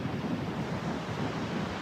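Continuous rushing wash of ocean waves at a beach, a steady broadband surf roar with some wind buffeting on the microphone and no speech.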